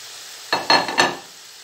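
Potatoes being fried in oil, with a few brief bursts of sizzling and stirring scrapes close by, over a quiet background, and no talking.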